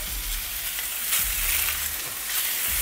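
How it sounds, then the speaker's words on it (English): Parmesan-basil pork tenderloin searing in a burning hot pan on medium-high heat, a loud, steady, close-up sizzle with brief stirring noises and no voices. "And then we're going to put it in this burning hot pan."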